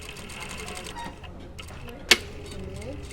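A sewing machine stitches along a fabric edge, its faint, rapid mechanical patter mixed with a sharp click, while a voice talks.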